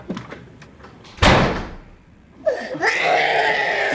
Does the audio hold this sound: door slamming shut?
yes